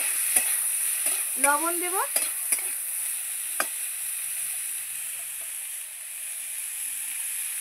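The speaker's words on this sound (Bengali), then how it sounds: "এবার সিমটা দিয়ে দিচ্ছি। সিমটা আমি ভালো করে ভেজে নেব।" Flat beans stirred and frying in a pan over a tempering of green chillies, giving a steady soft sizzle with several sharp scraping clinks of a spatula, while a voice speaks briefly.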